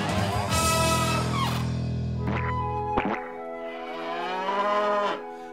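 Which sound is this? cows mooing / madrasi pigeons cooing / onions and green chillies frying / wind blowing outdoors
cows mooing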